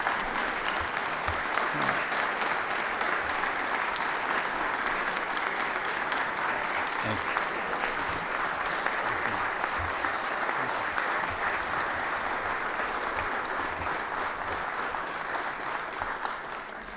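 Sustained applause fills a legislative chamber for about seventeen seconds, welcoming a sheriff's corporal and deputies from the Henry County Sheriff's Department seated in the gallery; steady, dense clapping from a large crowd with no pauses.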